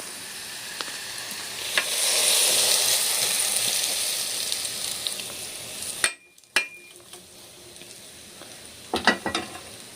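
Hot oil with crisped garlic pours onto an instant pickle and sizzles loudly for several seconds. The sizzle then stops abruptly and gives way to quieter stirring and a few metal clinks.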